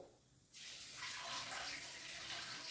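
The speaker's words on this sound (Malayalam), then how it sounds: "വേണ്ട, നമ്മുടെ ചൂരമീൻ വെള്ളം ഒഴിക്കാൻ പോകും." Water pours and gushes steadily from a tap over tuna fish pieces being washed in a kitchen, starting suddenly after a quiet moment and running continuously up close.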